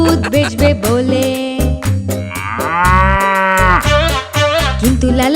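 A cow moos loudly and close by, several long drawn-out lowing calls in sequence, each rising and falling, with no talk.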